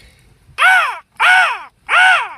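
A man imitates a crow's caw with a deep throat call, giving three loud, harsh 'caw' calls in an even rhythm, close and alone.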